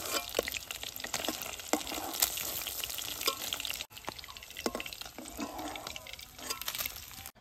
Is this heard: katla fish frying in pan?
yes